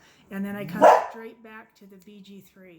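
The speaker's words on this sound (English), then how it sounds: "That's my dog Taz." A pet dog named Taz barks a few times indoors, loud and close, in the middle of a man's speech, which continues around the barks.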